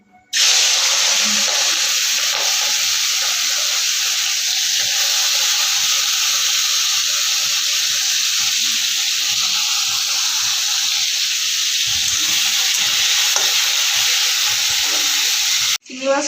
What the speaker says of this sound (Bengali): প্রথমে আমরা চিংড়ি মাছটা ভেজে নেব।